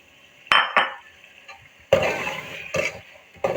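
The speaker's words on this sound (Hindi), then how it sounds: "चनों को हम अच्छी तरह से भून लेंगे" Black chickpeas roast with spices in a pan as a spoon strikes and scrapes the metal in a few sharp, irregular clinks, close and fairly loud, with no talking.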